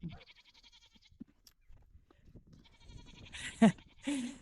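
Goats bleating outdoors in fresh snow, a couple of short calls near the end rising loud and close after quieter stretches of faint movement and rustle.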